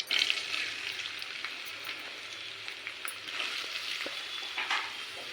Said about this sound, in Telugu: అందులో మసాలాలు ఫ్రై అయిపోయాయి ఇప్పుడు ఆనియన్స్ అనేది అందులో వేసుకోవాలి